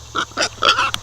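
A pig on a small farm gives a short run of close, loud grunts and snorts in quick uneven bursts, with no talk.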